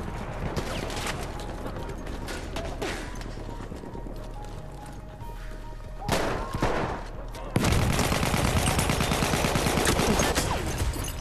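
Gunfire in Battlefield 1 Team Deathmatch, scattered sharp shots and bursts with a louder stretch of rapid fire near the end, mixed with clattering game sounds and faint talk.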